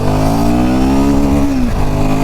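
A Royal Enfield Himalayan 450 motorcycle accelerating hard in first gear, its engine loud and close, the pitch rising steadily before dropping suddenly near the end, with no speech.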